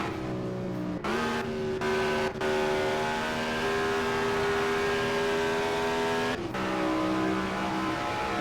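Race car engine in Indianapolis 500 Evolution at the 1964 Trenton 150, a loud sustained drone that drops pitch with quick downshifts, then holds a steady tone before shifting again.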